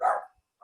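A dog barks twice, two short, sharp, close barks with a brief silent gap between them, heard alone.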